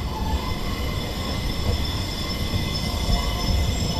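Tram rolling through the Kraków Podgórze tram depot, wheels screeching steadily along the rails over a continuous low rumble, close and loud throughout.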